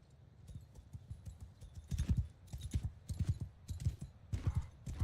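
Horse archers gallop in the medieval combat game Bannerlord, a rapid, irregular patter of many hooves thudding on the ground, moderately close and growing louder, with no talk over it.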